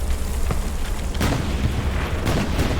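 Artillery shells exploding in the Hell Let Loose battlefield, a dense, continuous rumble of booms with sharper blasts near the start and middle, loud and close, with no talking over it.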